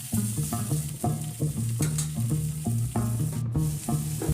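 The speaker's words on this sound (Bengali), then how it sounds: "আর একটু ভেজে নিচ্ছি যতক্ষণ না লালচে লালচে হয়ে ভাজা হয়ে আসে" Eggplant pieces frying in a pan for a Bengali hilsa curry, a soft continuous sizzle under a rhythmic series of stirring scrapes and taps, close and moderately loud.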